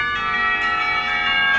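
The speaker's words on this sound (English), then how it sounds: "The lunch bell rings, signaling a return downstairs." A school lunch bell in the Katawa Shoujo visual novel rings steadily for the whole stretch, a bright, sustained metallic tone with repeated strikes about every half second, loud and alone with no voices.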